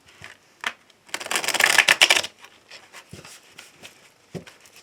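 A deck of tarot cards being shuffled and cut by hand: a few soft isolated taps, then a dense, close two-second riffle of flapping cards, followed by scattered light card clicks.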